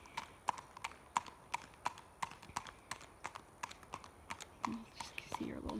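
A gaited horse's hooves clip-clop in a quick, steady, even rhythm of crisp strikes, moderately close, with a faint voice near the end.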